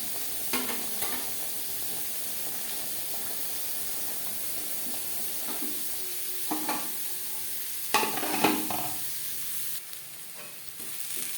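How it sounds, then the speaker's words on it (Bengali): Onions fry in hot oil for chicken biryani, a constant gentle sizzle with several scraping stirs of a spatula in the pan, close and moderately quiet, no talk. "পেঁয়াজ ভাজা হয়ে গেছে"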